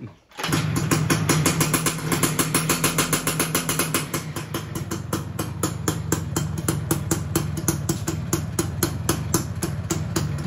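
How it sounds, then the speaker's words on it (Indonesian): After a brief start, a motorcycle engine settles into a fast, even idle. The rapid, regular firing pulses run close and steady for about ten seconds, with no talk. "Nah motornya hidup."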